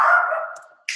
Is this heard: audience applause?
no